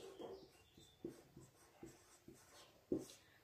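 A pen scratches across paper in short separate strokes, quiet and close, with soft pauses between marks as someone writes out a family list by hand.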